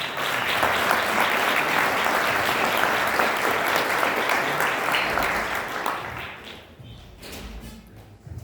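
An audience at a business symposium claps in a dense, sustained burst of applause that tapers off and thins out toward the end.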